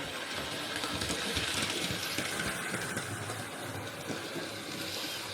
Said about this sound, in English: here's another view of my locomotive, and this is now going through the level crossing